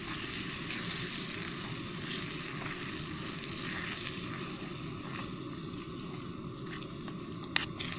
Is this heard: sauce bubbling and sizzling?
yes